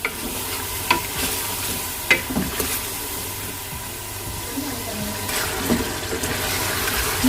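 Spices such as garam masala and turmeric stirred and fried in a pot for haleem, with a steady low sizzle and occasional scraping clinks from the stirring spoon, close and moderately loud, no talking.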